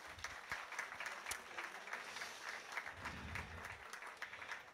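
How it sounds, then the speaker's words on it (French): A church congregation applauding at a baptism with continuous, fairly distant clapping and a murmur of voices underneath. "vous pouvez les applaudir"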